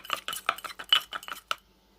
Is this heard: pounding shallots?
yes